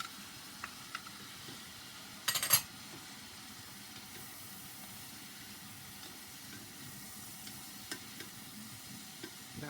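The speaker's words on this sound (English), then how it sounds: "Then you can throw in your green peppers. Okay, get that going in there." Green peppers hit a pan of browning lean ground beef for chili con carne, giving a faint, steady sizzle with a brief louder clatter of stirring near the start.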